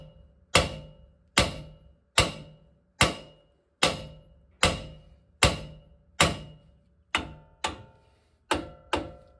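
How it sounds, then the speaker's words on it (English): A hammer strikes a Dodge Ram control arm to knock it loose, about a dozen sharp metallic blows at an even, unhurried pace, close and loud, each ringing briefly before the next, with no talk. "We're gonna hit it right here with the hammer till it comes loose."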